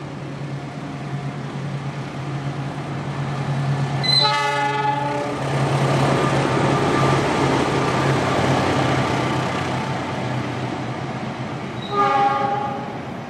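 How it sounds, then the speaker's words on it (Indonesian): The Argo Wilis passenger train rolls through Nagreg station with a steady, loud rumble of wheels on track, and its horn sounds twice, once early and again near the end. "Nah, ini dia KA Argo Wilis."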